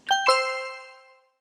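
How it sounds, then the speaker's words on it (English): A two-note electronic chime rings out clearly, the tones overlapping and fading away over about a second. "phone chimed, jolting her back to reality"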